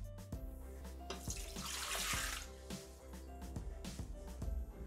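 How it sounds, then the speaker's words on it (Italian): Water pours into the mixing bowl of a Thermomix kitchen machine while bread dough is being started, a steady splashing stream that swells in the middle and tapers off, with light knocks and clinks around it. "Iniziamo la ricetta mettendo all'interno del boccale l'acqua"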